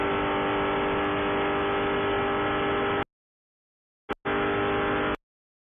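A Spec Corvette race car howls at Daytona from an onboard view as it accelerates through a lap. The loud, steady engine drone runs for about three seconds, cuts out, then returns for a brief burst.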